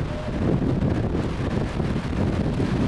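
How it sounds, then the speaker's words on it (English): Steady wind rushes across the microphone during an autumn bike ride around town, a constant broadband roar with no breaks, loud and close throughout. "The wind blowing down on me."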